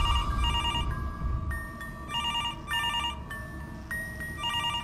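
A telephone rings repeatedly in the horror video game Mr. Hopp's Playhouse, an electronic ring in regular bursts with brief gaps, clear and continuous with no talking.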